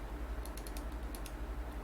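A computer mouse clicks several times in quick single, double and triple bursts during SketchUp work, faint and close over a low hum.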